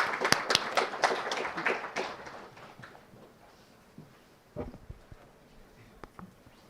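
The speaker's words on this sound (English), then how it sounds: "let's give a round of applause" Audience applause at a conference session on AI incident monitoring: a burst of scattered clapping that fades over a few seconds, leaving a quiet room with a few stray knocks and shuffles.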